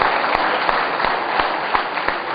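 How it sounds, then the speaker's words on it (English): Applause from an audience at a district installation ceremony, a dense steady wash of many hands clapping close by, with a few sharper individual claps standing out throughout. "May I request you for one more round of applause for all these guys who just been here."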